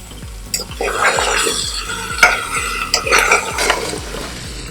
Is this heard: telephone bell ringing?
no